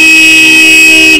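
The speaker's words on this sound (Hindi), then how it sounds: "ये देखिए डबल हॉर्न ऑन होगा, एक तो ये पहले कंपनी का है, ये हमारा वाला लग गया D95," A D95 aftermarket horn fitted as a double horn on a TVS Ronin motorcycle blares in one loud, steady tone that holds for over a second before cutting off abruptly.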